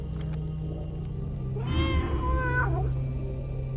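A cat meows once in the video game Tormentum: Dark Sorrow, a single drawn-out, rising-and-falling meow of about a second, clear and close against a low steady background.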